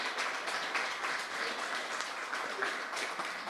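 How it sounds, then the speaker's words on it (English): Audience clapping at a housing rights 60th anniversary event in the Long Gallery of Parliament Buildings, a steady moderately distant round of applause lasting a few seconds with no talk over it. "Can we get another round of applause, please?"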